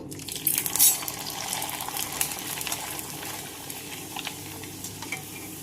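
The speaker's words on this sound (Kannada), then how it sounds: "ಎಣ್ಣೆ ಕಾದೈತಿ, ಈಗ ಹಪ್ಪಳ ಹಾಕ್ತೇನೆ." Masala rice papad frying in hot oil, giving a steady bubbling sizzle with a few sharp crackles and clinks near the start, close and moderately loud.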